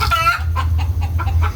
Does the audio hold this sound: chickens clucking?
yes